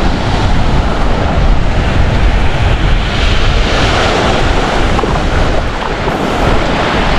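Strong ocean waves and gusting wind batter the microphone on a fishing boat at sea, a loud, continuous roar of surf and wind noise with no pauses.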